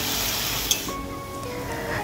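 Onion with green chilli, ginger and garlic paste sizzles in hot oil in a pan, a loud close hiss for about a second that gives way to quieter crackling.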